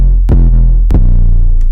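A deep, booming 808 bass note sustains with a smooth low rumble, struck a few times in under two seconds, loud and clean.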